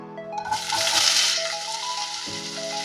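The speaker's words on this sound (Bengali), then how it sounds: "পেঁয়াজটা খুব বেশি ভাজার দরকার নেই হালকা আমরা ভেজে নেব" Chopped onion hits hot oil with whole garam masala for Patiala-style chicken, a close, steady sizzle that swells briefly and then settles into a softer crackle.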